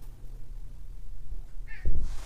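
A cat gives a single short meow close by near the end, after a stretch of quiet low room rumble.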